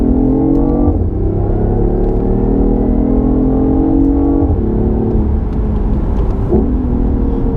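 A 2016 BMW i8 hybrid engine revs up loudly through several gears, rising in pitch and dropping at each shift, heard from inside the car.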